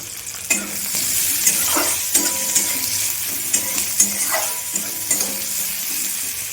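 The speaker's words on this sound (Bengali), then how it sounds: "পেঁয়াজটা আমি ভেজে নেব লাল লাল করে।" Chopped onions sizzle in a pan for an egg curry with aubergine and cauliflower, a constant close hiss broken by regular scraping stirs of a spatula against the pan.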